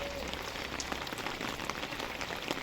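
Steady rain falls during a severe village flood in Ramrai, with water covering roads and shops; a dense, even hiss of drops patters continuously at close range with no voices.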